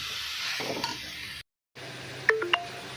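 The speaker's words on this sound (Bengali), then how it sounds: "দিয়ে মশলাটাকে ভালো করে কষিয়ে নিচ্ছি।" Spice mix of Kashmiri chilli powder and ground black pepper being sautéed in a kadai for ghugni, with a steady frying hiss, a brief silent gap, then a few clinks of a spoon against the pan.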